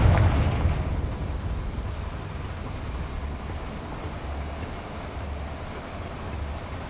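Confringo, an explosive fire spell cast in the video game Hogwarts Legacy, lands as a heavy booming burst up front, then trails into a steady low rumble that lasts several seconds, with no voices.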